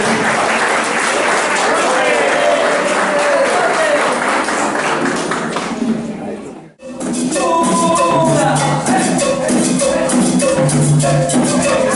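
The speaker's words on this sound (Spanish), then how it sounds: "un maravilloso aplauso para estos" Audience applause for a music group of musicians with cognitive disabilities and autism, sustained loud clapping from a crowd that dips briefly, then swells again, with voices mixed in.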